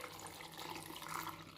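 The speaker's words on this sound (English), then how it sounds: "Then I'm gonna pour the liquid" Liquid pouring into a blender jar of belly-fat-burner drink ingredients, a short steady stream of water, close and moderately loud, with no talking.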